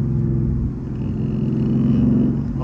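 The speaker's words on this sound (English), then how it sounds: "Oh my God, this car sounds so beautiful" A deep, steady V8 engine rumble from an overheating 2014 Ford Mustang GT idling close by, with a throaty low burble that swells slightly near the end.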